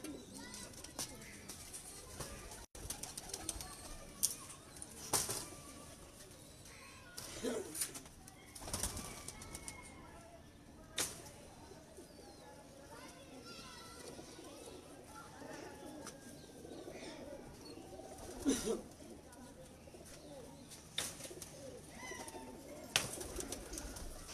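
Pigeons of a home-bred bloodline cooing in soft, repeated murmurs, with occasional chirps and brief wing flaps, heard close by amid low background noise.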